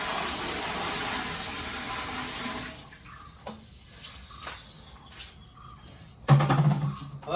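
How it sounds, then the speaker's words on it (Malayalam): A second pot of water poured into a copper vessel on a stove, a loud steady gush for about three seconds, then scattered drips and a closing metallic clank. "രണ്ടാമത്തെ കുടം വെള്ളം."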